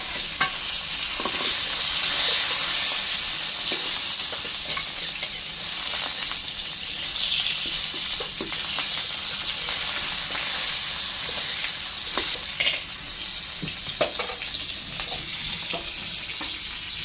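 Fish sizzles loudly and steadily in hot oil in a pan, with scattered crackles and spatula clicks throughout.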